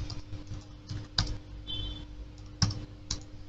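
Quiet keystrokes on a computer keyboard as a command is typed at a Linux terminal, with a few sharper clicks standing out over a low steady hum, and no talk.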